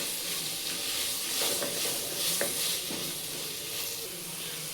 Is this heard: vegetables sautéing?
yes